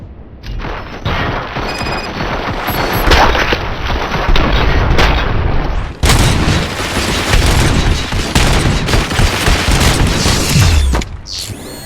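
Heavy gunfire in Robocop Rogue City: repeated loud shots and booming blasts come in rapid bursts with mechanical clanks, break off briefly in the middle and then resume before stopping.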